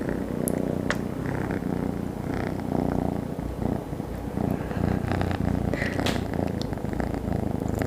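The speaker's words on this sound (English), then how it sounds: "He's still a little kitten." A young, playful kitten purrs steadily and softly at close range throughout, in a quiet indoor setting with faint rustling and no talking.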